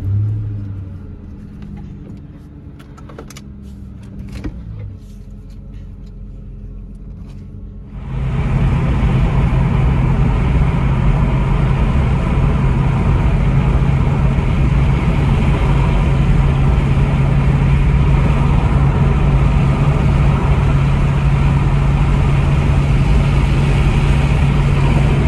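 A 2004 Ford Mustang GT V8 drones steadily at close range while driving, its loud, even engine rumble with a strong low hum setting in after a few quieter seconds and holding unbroken.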